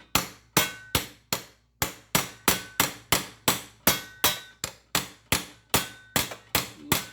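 Steady, evenly spaced metal hammer blows on a socket drive a frozen bearing into a heated generator housing, about sixteen sharp ringing strikes in seven seconds, loud and close with no talking.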